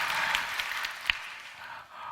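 A congregation at a prayer gathering applauds in a soft, fairly distant wash of clapping that continues through the moment.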